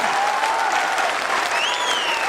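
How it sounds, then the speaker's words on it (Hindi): Dense, steady applause from a large crowd fills the whole moment, with a few whistles rising above it. "सर के लिए जोरदार तालियां होनी चाहिए।"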